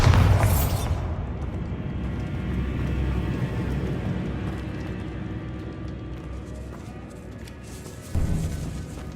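A Bombarda blasting spell goes off in Hogwarts Legacy, opening with a sharp loud burst and a long rumbling tail, then a second smaller boom near the end.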